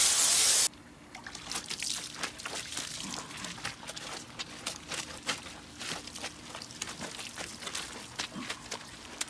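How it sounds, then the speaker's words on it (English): Water sprays and trickles in an uneven rhythm as a car wheel and inner fender wells are rinsed, splashing close by after a brief burst of louder hiss at the start. "Make sure you rinse it out very well"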